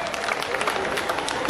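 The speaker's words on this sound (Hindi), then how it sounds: "तालियों से खैर मकदम कीजिए" A brief burst of crowd applause, many hands clapping at once in a dense, steady patter.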